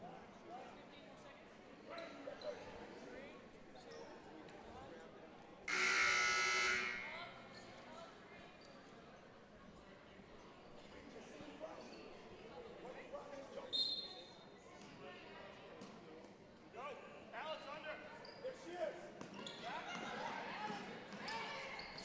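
A loud electronic buzzer sounds in a school gym to end the first half of a girls' high school basketball game, one sustained blast lasting about a second, with ball bounces, crowd noise and an announcer talking around it.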